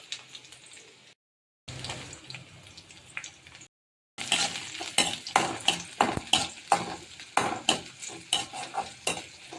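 Small shallot-type onions frying in oil for egg rice, a crisp continuous sizzle broken by two short silences, then steady rhythmic scrapes and clinks of a spatula stirring against the pan, close and clear.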